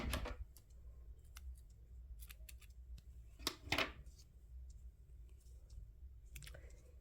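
Scissors snip crochet yarn during a Christmas-house crochet project, a few faint, sharp clicks, one brief louder cut near the middle, in an otherwise quiet room.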